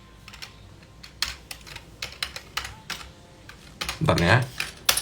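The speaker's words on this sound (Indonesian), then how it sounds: "Susah soalnya saya ngetik." Typing on a computer keyboard, with scattered, irregular keystroke clicks heard up close, a brief burst of voice near the end, and a louder cluster of key taps right after it.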